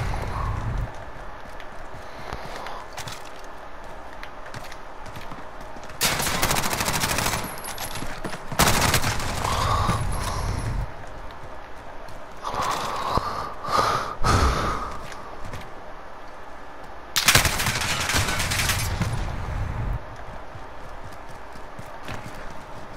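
Gunfire in Call of Duty: Modern Warfare comes in several loud, broadband bursts lasting a second or two each, separated by quieter stretches of ambient game noise.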